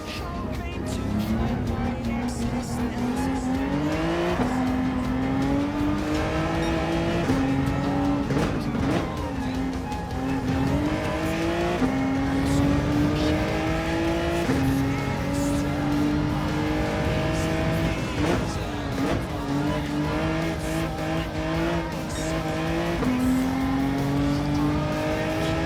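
Race cars lapping Brands Hatch in Gran Turismo 7, a loud steady engine drone with rising and falling gear-change pitch sweeps and occasional tire squeal, continuous throughout.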